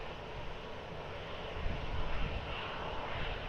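An airliner's engines roar in a steady broadband rumble as it takes off from runway 20 at Lisbon Airport, heard from a distance with a slight swell midway and no voices.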